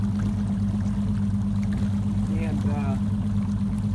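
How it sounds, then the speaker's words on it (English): An Evinrude E-TEC 150 HO outboard on a Glastron CVX16 boat runs on a Michigan lake with a steady, smooth low engine drone throughout, and someone speaks briefly over it. "Motor is running so smooth."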